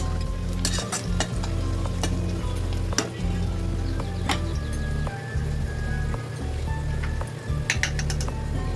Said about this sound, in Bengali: পেঁয়াজটা লাল লাল হওয়া পর্যন্ত ভেজে নিতে হবে